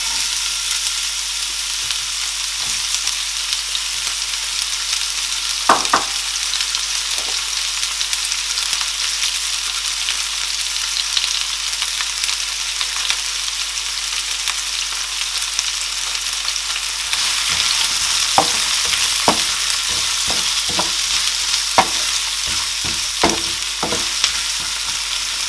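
Onions frying in hot oil in a pot, the oil left over from frying meat for yam porridge; a steady sizzle throughout with scattered stirring clatters, alone without talk.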